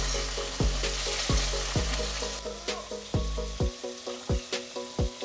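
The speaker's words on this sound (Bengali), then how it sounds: "পটলগুলোকে আমি লাল লাল করে ভেজে নেব।" Pieces of pointed gourd (potol) fry in hot oil, giving a loud, constant sizzle broken by a regular series of clacking stirs from a utensil.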